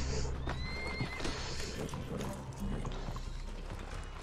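Horses in the Red Dead Redemption 2 video game whinny loudly at the start, then hooves clip-clop in a fast, continuous gallop over a rumbling game soundscape.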